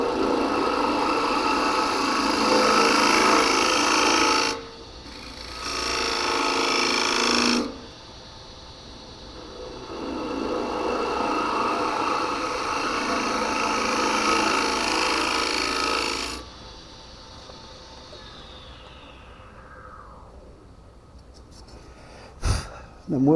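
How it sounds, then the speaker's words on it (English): Fine shaving passes worked from the center outward across an elm wood biscuit cutter, giving several long, steady, close scraping bursts separated by brief pauses, then a sharp knock near the end. "We're going to take a couple more very fine shaving passes from the center out."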